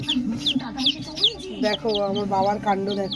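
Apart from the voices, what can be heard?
chicken chicks peeping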